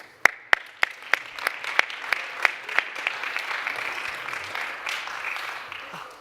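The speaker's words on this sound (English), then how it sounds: "So round of applause, please." Summit audience applauds a tech panel: a few sharp, evenly spaced claps lead off, then many hands join into a fuller, steady round of applause that carries on to the end.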